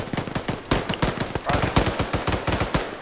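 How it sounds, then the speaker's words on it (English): Rapid automatic gunfire in Arma 3, a dense run of close, loud shots in quick bursts with a short gap near the start, lasting the whole moment. "fire coming in from the southeast."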